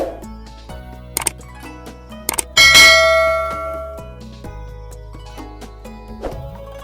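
A bright notification bell chime rings once, loud and close, ringing out and slowly fading over a soft musical background with a few lighter dings around it.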